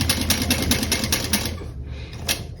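A home sewing machine stitches a small bowler bag with a fast, steady mechanical chatter up close, easing off toward the end with a last short burst.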